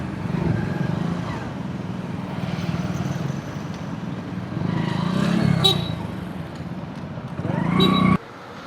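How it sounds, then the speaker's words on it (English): A car drives down a street the wrong way in Cartagena, its engine rumbling steadily nearby for several seconds, with other road traffic around it and a brief louder swell near the end. "this guy's just driving down the wrong way"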